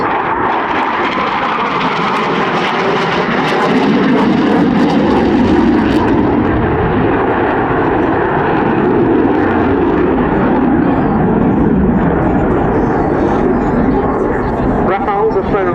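Rafale jets make an inverted to inverted pass at RAF Cosford Airshow, a loud, sustained roar of jet engines rising and swelling as the aircraft sweep by, with an announcer talking over it throughout.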